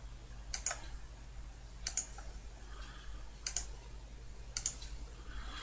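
A computer mouse clicks sharply four times at roughly even intervals, each a quick double tick, close and quiet against a faint background hum.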